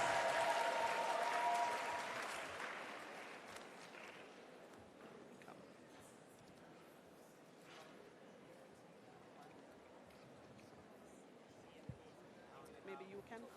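Applause for saxophone and flute performers at a teachers' engagement session, starting fairly loud and fading over a few seconds into a quiet room with scattered small noises and faint talk.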